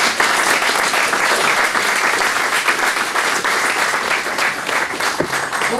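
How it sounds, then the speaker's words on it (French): Loud, full applause from a church congregation at a Messianic celebration gathering in Rouen, many hands clapping together in a dense unbroken wash that holds steady for several seconds. "je vous demanderai à vous tous d'applaudir sur ces belles paroles"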